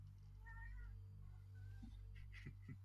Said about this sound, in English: you can hear the cat outside.